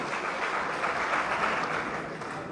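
An audience at an Aam Aadmi Party swearing-in ceremony claps steadily, a dense, even wash of applause from a crowd, moderately loud with no voices over it.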